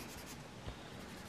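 Quiet scratching of a Staedtler water-based pen tip moving across paper, soft and continuous with a faint stroke near the middle.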